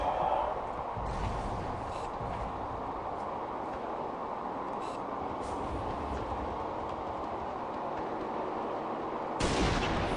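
Dense, continuous weapon fire in the Halo Reach video game, a loud unbroken rattling roar that lasts throughout and swells slightly at the end.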